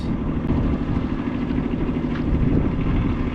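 A sailboat motors out of Manitowoc marina on Lake Michigan, with a steady low engine drone and droning hum that holds even and close throughout.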